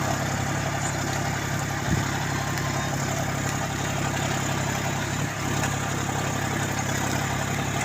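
A John Deere 5050D 4WD tractor ploughs very hard soil in low second gear, its engine holding a steady, loud diesel drone at constant revs throughout.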